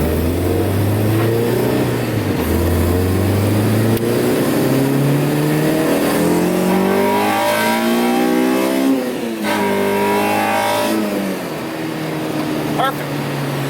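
A Honda Civic with a K20 engine and new shifter revs up through an acceleration pull on a rainy road, its tone climbing repeatedly with shifts between, loud and close, with a voice speaking briefly.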